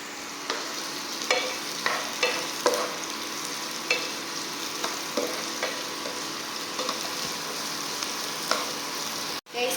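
Onions frying in a pan while being stirred, a steady sizzle with regular scraping knocks from the spoon, fairly quiet and with no voices.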